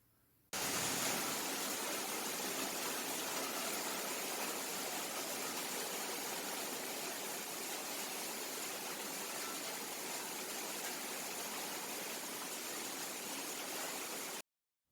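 Steady broadband hiss of a Costa Rican tropical rainfall near Quepos and Manuel Antonio, a dense, even wash of falling rain holding constant from start to finish with no voices.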